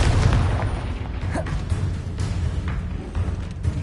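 A Confringo fire spell blasts in Hogwarts Legacy, a loud, rumbling booming explosion that fills the moment and rolls on without pause, with no talking.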